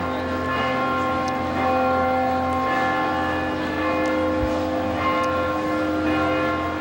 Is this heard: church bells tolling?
yes